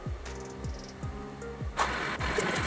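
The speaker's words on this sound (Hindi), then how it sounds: "इस तरह से सिलाई लगा लेंगे बड़े टाके वाले से।" A sewing machine runs long basting stitches on a blouse, slow regular thumping pulses about every half second under a steady motor hum.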